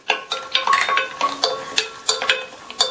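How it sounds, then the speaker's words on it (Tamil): Cashews roasting in melted ghee in a pan over medium heat for payasam, with soft sizzling and repeated scraping and stirring clinks against the pan, close and without voices. "இதில் 15 போல முந்திரியை சேர்த்து நல்லா பொன்னிறமாக வர வரையும் மிதமான தீயில வச்சு வறுத்து எடுத்துக்கலாம்"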